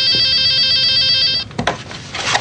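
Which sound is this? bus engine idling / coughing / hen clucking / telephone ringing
telephone ringing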